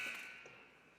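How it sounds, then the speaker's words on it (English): A youth AAA ice hockey game's end-of-period buzzer sounds at the close of the second period, a single sustained electronic tone that starts loud in the arena and slowly fades. "And there is the buzzer"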